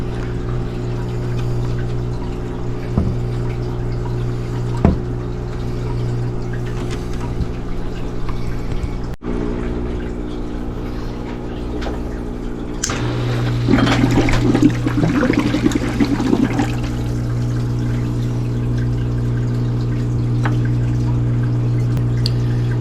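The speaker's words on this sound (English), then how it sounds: "So here we're sucking the water," A Sunbelt intelligent aquarium water changer runs with a constant motorized hum, then water begins rushing and gurgling midway as it is drawn out of the tank, growing louder and steadier.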